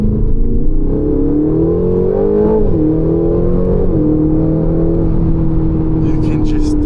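A 2025 Aston Martin Vantage engine drones loud and close, its pitch climbing briefly as it revs, then settling back into a steady growl on a narrow, twisting road.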